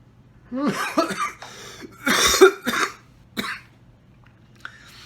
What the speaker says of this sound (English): I normally don't cough, but I've got bronchitis